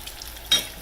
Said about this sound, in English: They're really frying up pretty.